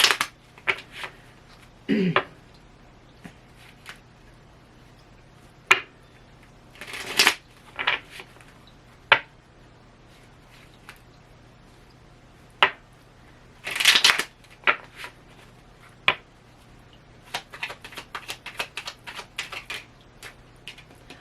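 Cards from a brutally honest oracle deck riffled and shuffled in repeated bursts, with brief crisp flutters and taps spread across the stretch, some sections denser than others, and quiet pauses between.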